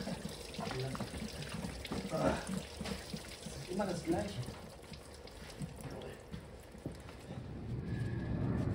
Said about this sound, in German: Doch noch mal ordentlich Wasser rausgelaufen.